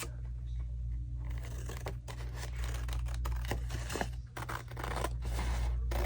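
Scissors snip through paper for a small folded paper craft pocket, giving a series of crisp, close cuts and rustles with brief pauses between strokes.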